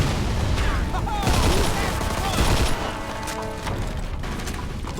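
Gunfire in Mafia 2 Definitive Edition, rapid bursts of shots with sharp cracks and booms amid loud game combat, and a voice talks in between.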